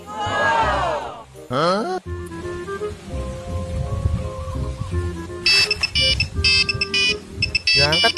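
A mobile phone rings in a short comedic parody film, with repeated electronic tone bursts sounding toward the end after a stretch of voices and background sounds, and people talking around it.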